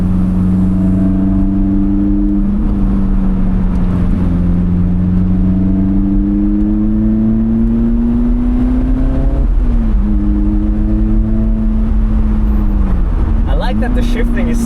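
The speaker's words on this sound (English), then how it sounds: "You can see you really need to work the gears to get some power out of it." A Lotus Elise engine drones loudly from inside the car, its pitch climbing steadily through each gear before dipping at the shifts on a winding mountain road, while people talk over it.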